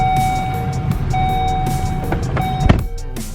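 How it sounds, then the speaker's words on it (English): Interior of a Volvo S80 running while parked, a low steady engine rumble under a sustained electronic chime tone, with a few clicks and a solid thump partway through. "if you start your car"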